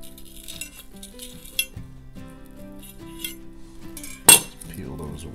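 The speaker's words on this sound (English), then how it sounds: "Just cutting all these strings." A knife clicks and scrapes against a board and plate while the strings are cut off a reverse-seared roast, with a series of light taps and one sharp metallic clink near the end, with no talking.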